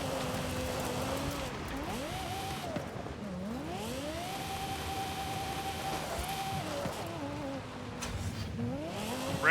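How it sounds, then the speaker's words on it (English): Car engine in the racing game Forza Horizon 5 on a dirt oval, revving up and down repeatedly through shifting tones, sustained and moderately loud against a steady background of noise. "Redlining this thing sounds pretty sick though."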